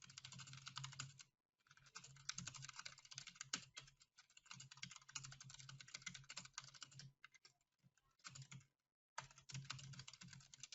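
Steady computer keyboard typing, close and fairly quiet, with no talking, comes in bursts separated by two brief silent pauses.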